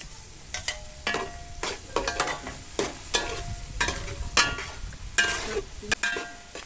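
Tomatoes crackle and sizzle in oil with onions for Palakkad-style chicken curry while a spoon scrapes the pan in regular bursts, about once a second, close and fairly loud.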